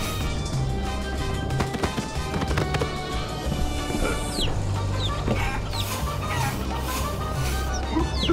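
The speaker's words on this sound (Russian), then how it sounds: "Великая курица Вар терроризовался на Лучидо многие годы." Cartoonish chicken clucks repeat from the video game Guacamelee!, layered over a busy game soundtrack with music, pops and effects throughout, fairly loud and continuous.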